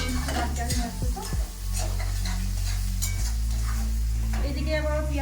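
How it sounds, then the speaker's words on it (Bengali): Onions frying in a pan for a thin chicken-and-potato curry, with a steady close sizzle broken by a few stirring scrapes and clinks of a utensil against the pan. "এদিকে আবার পেঁয়াজগুলো ভাজু"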